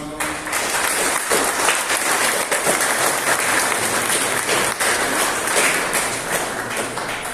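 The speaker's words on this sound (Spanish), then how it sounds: "Le damos también un aplauso." A church congregation at Sunday Mass on the first Sunday of Lent bursts into sustained, dense applause that continues at a strong, even level and fills the whole stretch.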